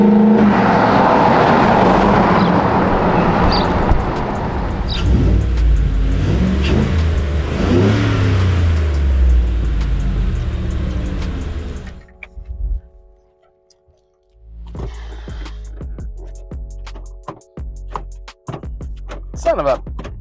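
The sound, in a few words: Ford Bronco restomod engine revving while driving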